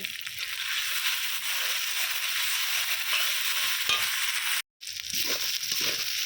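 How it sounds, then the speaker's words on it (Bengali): Garlic and ginger paste masala sizzling and frying in a pan while being stirred, a steady loud hiss and scrape with a brief break near the end, no voices. "এর মধ্যে দিয়ে দিচ্ছি রসুন বাটা আদা বাটা মশলাটা খুব ভালো করে কষিয়ে নেব"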